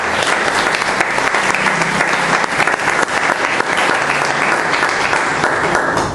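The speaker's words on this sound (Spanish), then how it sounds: "démosle ese fuerte aplauso de bienvenida" A church congregation gives a loud, sustained round of welcoming applause, dense clapping that stays strong throughout with a faint crowd murmur beneath.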